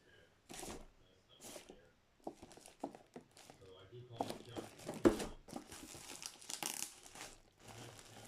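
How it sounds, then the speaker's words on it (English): Crinkly plastic film wrapping on a deluxe-edition toy box is handled in bursts of crumpling and rustling, close and moderately loud, mixed with soft thumps and shuffling under intermittent low talk. "So this box comes in this plastic film."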